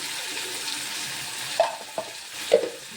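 Onions sizzle steadily in hot oil in a pan for chitranna with chana dal, with a few brief scraping stirs of a spoon breaking through the continuous frying hiss.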